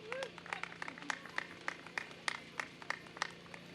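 Scattered clapping from a modest crowd at an outdoor community event for free Wi-Fi at a townhome complex, sparse and fairly quiet individual claps in a loose rhythm with a faint voice in the background.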